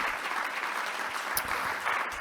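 Audience at a business forum conclusion applauding steadily, a dense even wash of clapping from a roomful of people with no one speaking over it.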